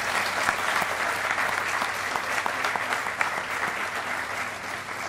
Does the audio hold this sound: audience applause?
yes